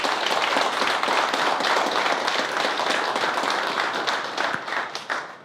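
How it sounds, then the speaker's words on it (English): Sustained conference audience applause, dense clapping filling the whole stretch at steady loudness before tapering slightly near the end. "would y'all mind giving a round of applause for Zell?"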